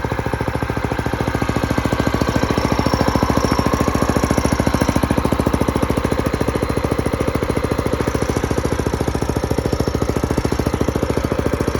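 A small multipurpose walk-behind farm tractor with a gasoline engine idles steadily close by, giving a continuous, evenly pulsing chug that holds at a constant loudness throughout, with no talking.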